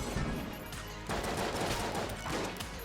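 Rapid bursts of gunfire from the Luxon cannon in the video game Enter the Gungeon, dense and continuous across the whole stretch, with game music and sound effects layered underneath.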